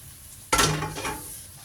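Fish and snow peas stir-fried in a pan: a sudden loud sizzle as food hits the hot surface, then a fading hiss with a scrape of stirring, close by and with no talk.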